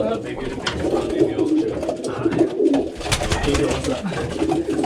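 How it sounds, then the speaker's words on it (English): A Bradford fancier's racing pigeon coos in a loft, soft throaty calls repeating close by among other birds, with people talking over them. "That's a beautiful pigeon."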